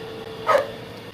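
A single short dog bark rings out once, moderately distant, over a steady background hum, with no other sounds around it.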